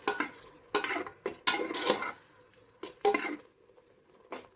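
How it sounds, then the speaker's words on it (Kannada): Ginger, garlic and green chili paste cooks in oil in a pan while being stirred for mushroom biryani, with intermittent scraping strokes of a spoon against the pot between quieter stretches of soft sizzling. "ಜಿಂಜರ್ ಗಾರ್ಲಿಕ್ಕು ಮತ್ತು ಹಸಿಮೆಣಸಿನ್ಕಾಯಿ, ಆ ಪೇಸ್ಟ್ನ ಹಾಕ್ತಾಯಿದ್ದೀನಿ. ಸ್ವಲ್ಪ ಚೆನ್ನಾಗಿ ಬೇಯಲಿ"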